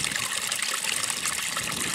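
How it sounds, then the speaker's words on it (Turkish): Spring water pours steadily from a spout in a rural spot, a continuous broadband gush and splash that stays close and fairly loud throughout, with no talk over it. "Bu musluk suyu mu? Lofor suyu."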